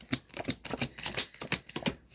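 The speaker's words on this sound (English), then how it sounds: "I'll give you a little more of a shuffle on that one." A deck of tarot cards is shuffled in rapid, crisp riffling bursts, close and clear, with no talking.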